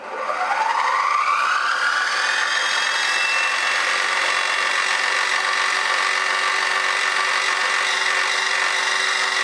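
A milling machine runs a carbide insert face mill at 1500 RPM, a steady close whine with a pitch that rises in the first couple of seconds and then holds a constant ringing tone, with no talking.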